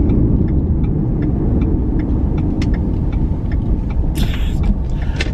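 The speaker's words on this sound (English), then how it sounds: "I'll pull into this gas station right here." A car rolls into a gas station at night, its engine and tyre rumble a steady loud drone from inside the cabin, with faint ticking and a brief higher whine near the end.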